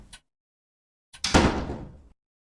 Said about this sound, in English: repetitive thumping sounds hammer away behind the basement door